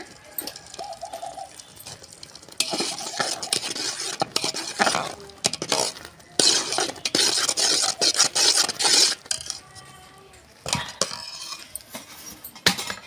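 Rice flour is worked into hot syrup with cardamom powder and ghee for Telangana-style Sankranti ariselu, making bursts of rough scraping and rubbing from the stiff mixture, with pigeons cooing faintly in the background and no talking.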